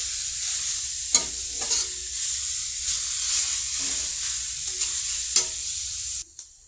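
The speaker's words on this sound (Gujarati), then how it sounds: "આપણે ગાજરને આ રીતે હલાવતા રહેવાનું, તે શેકાઈ જાય નહીં ત્યાં સુધી" A pan sizzles steadily while carrots are stirred and roasted, with a few sharp scraping knocks of a utensil and a louder clatter near the end.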